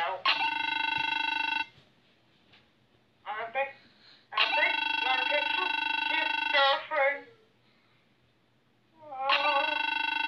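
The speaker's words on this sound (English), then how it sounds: "Aggressive beep-bop noises." Angry electronic beep-bop vocal noises from the rhythm game Friday Night Funkin, loud bursts of bright buzzy tones in three phrases separated by short gaps, with brief chattering sounds between them.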